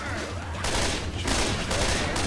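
Dense, loud gunfire in the zombie shooter Left 4 Dead 2 on a custom map rattles in overlapping bursts, close and continuous, with faint voices mixed underneath.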